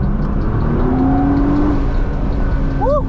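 A supercharged Nissan 350Z runs on a race track with a loud, sustained engine drone and a rising whine, close and continuous.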